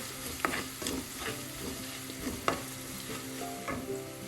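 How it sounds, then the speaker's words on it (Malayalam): Dried red chillies sautéed in oil in a pan for a Kerala carrot mezhukkupuratti, a steady close sizzle with intermittent scraping stirs and clinks throughout, no talking. "വറ്റൽമുളകിൻ്റെ പച്ചമണം മാറുന്നവരെ ഒന്ന് വഴറ്റി കൊടുക്കാം."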